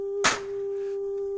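A single sharp smack lands on a roughly 10-pound 8-track tape player, a loud broadband crack that decays quickly over a steady electrical hum that continues afterward.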